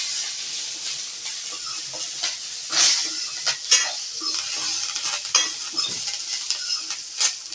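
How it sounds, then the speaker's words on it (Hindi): Curry leaves fry in a pan, a steady close sizzle broken by repeated scraping strokes of a spoon stirring them, with sharp crackling spits now and then. "अब इसमें इस करी लीव्स को भी हम डाल देंगे। इसे भी अच्छी तरह से भूनिए।"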